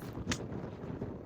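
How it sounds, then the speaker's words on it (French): Strong wind buffets the microphone at Punta Tombo, a steady broadband rumble with a brief gusty hiss rising near the start, continuous and close throughout. "vous n'imaginez pas le vent qu'il y a"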